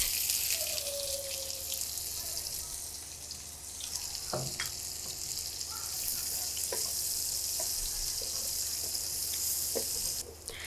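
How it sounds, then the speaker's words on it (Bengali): A cup of onions goes into hot oil left in a pan after frying chicken, giving a steady, even sizzling hiss with a few faint clicks from the pan. "প্যানে যে তেলটা ছিল সেটার মধ্যে আমি দিয়ে দিচ্ছি 1 কাপ পরিমাণে পেঁয়াজ"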